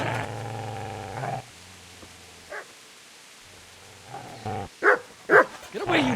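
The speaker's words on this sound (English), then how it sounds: "Get away, you mutt!" A dog in Kingdom Come: Deliverance barks and growls at a man, with a sustained snarl up front, then a few sharp close barks after a quieter stretch.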